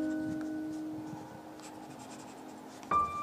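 Prepared knitting needles touch and set off small bursts of sound: faint scratchy contacts over steady tones, ending in a sharper, louder burst near the end.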